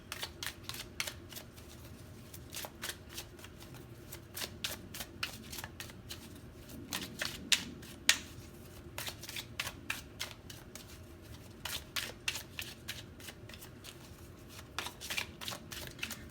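Tarot cards are shuffled and drawn into piles, giving a long run of crisp, close riffling snaps and soft slides in irregular bursts, fairly quiet overall, with no one speaking.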